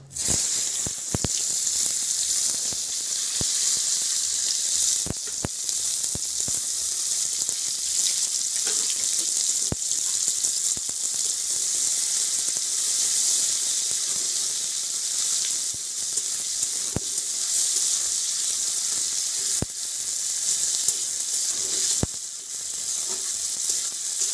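Chopped onions fry in hot oil left over from frying potatoes, giving a steady, close hissing sizzle with scattered sharp pops and crackles throughout.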